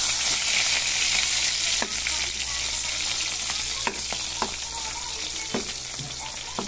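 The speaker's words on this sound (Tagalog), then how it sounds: "Prito na tayo ng tuyo para masarap yung ulam natin." Dried fish crackling and sizzling in hot oil, a steady frying hiss with occasional pops and utensil scrapes.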